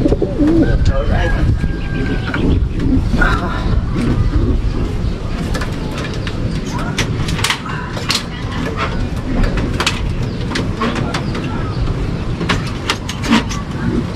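Racing pigeons, flown on a 600 km race from Catbalogan to Nueva Ecija, coo repeatedly and loudly up close while people talk nearby.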